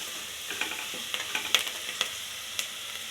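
Turmeric powder stirred by hand in a hot frying pan for a cluster bean (gori kai) palya, a steady oil sizzle broken by a scattering of soft scraping clicks and brief bursts, close and fairly quiet.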